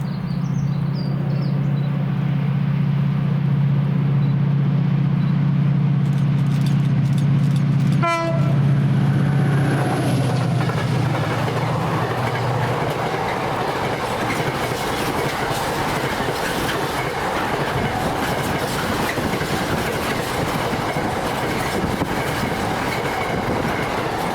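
Freight train 4D47 from Inverness to Mossend passes Camperdown in Scotland, its horn blaring low and loud early on before a steady rumble and clatter of wagons rolls past close by for the rest of the clip.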